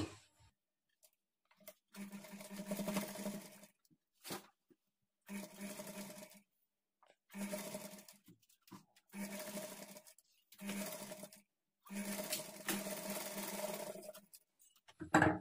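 Close sewing machine runs in repeated short bursts, stopping and starting as it stitches a half-inch seam on a girl's lehenga blouse sleeve.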